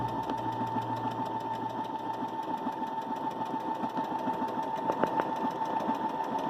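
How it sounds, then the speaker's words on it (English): A Baby Lock Jubilant sewing machine runs continuously, a steady mechanical whir carrying a fast, even ticking of stitches that stays close and unbroken throughout, with no talking. "Now this will just keep sewing until you have it stop"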